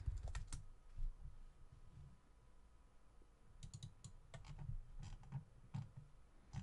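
Keystrokes on a computer keyboard during 3D modelling in Rhino, a few quiet scattered clicks over a steady low hum of room noise.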